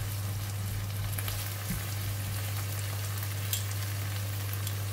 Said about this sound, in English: Just put in half of the onion oil, put in the egg, just need to cook the egg first.